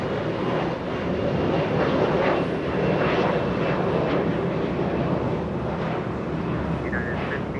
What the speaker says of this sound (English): Big 777 touching down in the north side of LAX.